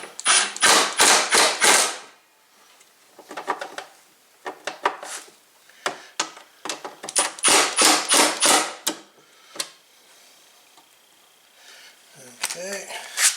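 Bolts are tightened on a Craftsman push mower, heard as loud bursts of rapid metallic clicking and ratcheting in several separate runs with pauses between, close by.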